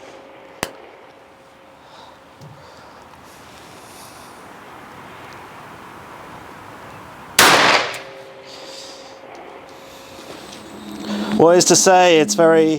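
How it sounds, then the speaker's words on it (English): Revolver shot on an outdoor shooting range: one loud sharp bang stands out mid-clip over wind noise, with an earlier fainter crack, then people talking. "yes, it's a revolver. It goes bang"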